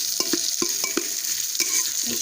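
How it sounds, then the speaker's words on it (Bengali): A spoon stirs fried mung dal into a pan of vegetarian khichuri made with Gobindobhog rice, giving a series of close, irregular scrapes and knocks over a steady, soft sizzle. "সব কিছুর সাথে মুগ ডাল ভালো করে মিশিয়ে নেব।"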